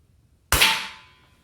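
A single sharp shot from a Marlin 795 rifle, a loud crack with an abrupt onset and a ringing tail that fades over about a second, alone in a quiet setting.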